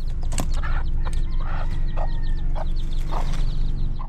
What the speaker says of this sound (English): found chickens resting nearby